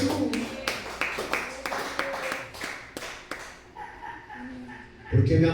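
Congregation clapping at a church service, a run of sharp, fairly rapid claps over several seconds that thins out, with voices and music swelling near the end.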